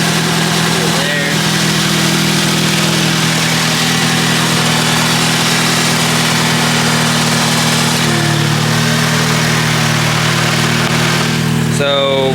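A Nissan B15 car engine idles close by, a loud steady low rumble with a slight shift in tone partway through, while a voice talks faintly over it.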